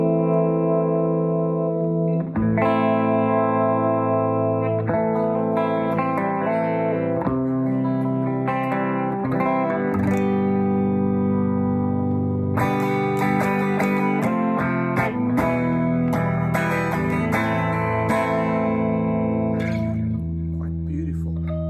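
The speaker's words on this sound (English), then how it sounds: "Phase mode, because the guitars are wired out of phase." Electric guitars with pickups wired out of phase play a slow sequence of ringing chords and notes, thin and nasal in tone with some reverb, continuous for about twenty seconds.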